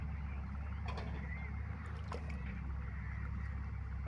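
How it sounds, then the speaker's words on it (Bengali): Wooden boat rowed slowly along a village river channel: faint, quiet splashes and soft knocks of the oar against the hull over a steady low water and wind hum. "এই নৌকা চালাইতেছে আমার শ্বশুরে,"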